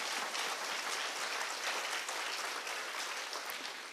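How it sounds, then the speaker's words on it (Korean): A Korean church congregation applauds during a Sunday worship service, a loud, dense and sustained wash of many hands clapping together with no talk over it. "우리 박수로 하나님께 영광 드리겠습니다."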